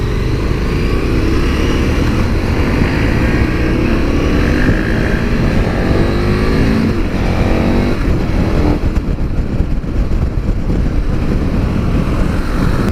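A KTM Super Adventure 1290 motorcycle engine runs steady and smooth while riding through farmland, a continuous loud drone mixed with wind rush, with no talking.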